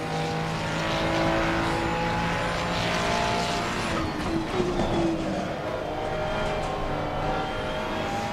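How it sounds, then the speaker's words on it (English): Race car engine in the Assetto Corsa racing game drones steadily at high revs for several seconds, loud and continuous with shifting pitch and no talk over it. "See, you could hear it in the engine."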